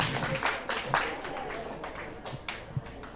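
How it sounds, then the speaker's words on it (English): A room of people at a 2024 orientation program clapping for an honoree, a moderate, uneven patter of claps with voices murmuring underneath. "a round of applause for Mrs."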